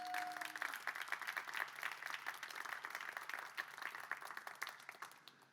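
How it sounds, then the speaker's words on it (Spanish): Church congregation applauding Jesus during a sermon, a sustained burst of many hands clapping that fills the hall for several seconds, fairly distant, then tapering off. "Dale un aplauso a Jesús."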